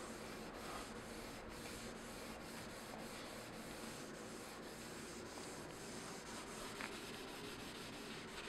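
Stainless steel is hand sanded with the grain: a steady, close, continuous abrasive rubbing with even back-and-forth strokes and no pauses.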